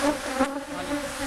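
Honey bees buzz around an open hive during an inspection, a close continuous droning hum with wavering pitch from many wings, no talk.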